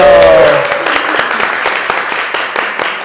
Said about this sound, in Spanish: vamos a regalarle un fuerte aplauso a la gran Dani Carrillo